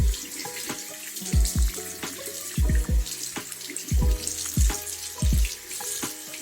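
A tap running into a sink while hands are washed with paper soap, close splashing water with repeated low gurgling bursts as the flow is interrupted.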